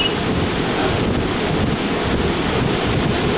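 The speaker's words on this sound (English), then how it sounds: "It's raining that hard, the water's up over the curb in front of our house in town." Heavy rain and gusting wind outside a workshop, a constant dense roar with strong wind buffeting on the microphone, loud and unbroken, no voices.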